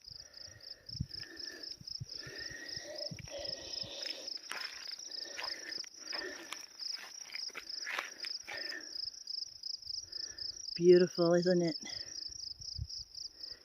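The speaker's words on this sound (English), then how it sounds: "Hear the crickets?" Steady, rhythmic cricket chirping pulses throughout at night in Umatilla National Forest, Oregon, fairly faint and even, with a person speaking briefly over it and a short whistle-like sound near the end.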